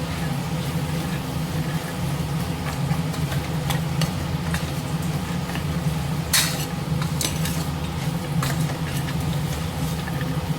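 A spoon stirs homemade chili powder into chickpea curry in a pan, giving soft scraping and occasional clinks over a low, steady sizzle.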